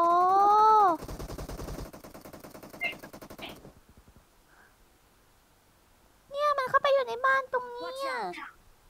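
Gunfire in a team domination match of a shooting video game: a short rattling burst of rapid shots, with a voice talking before it and again after a brief lull.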